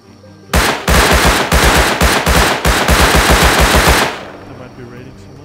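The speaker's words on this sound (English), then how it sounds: "It looks like they're shooting at the quarry itself." Automatic gunfire from a raid at the quarry in the video game Rust, a loud rapid burst of evenly spaced shots lasting several seconds before cutting off.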